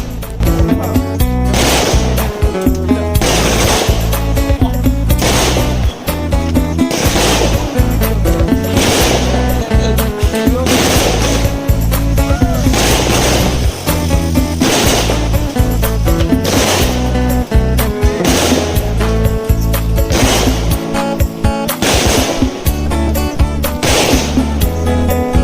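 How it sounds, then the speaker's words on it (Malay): Fireworks and firecrackers set off during a Hari Raya celebration: a loud, continuous run of sharp booming bangs and crackling pops, closely spaced and overlapping for the whole stretch. "Tengah sedap-sedap main bunga api"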